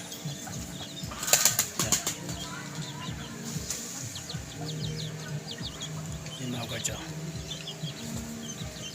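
Chickens in a yard flapping their wings in a loud burst, then clucking and scratching at moderate distance, with someone talking softly over them.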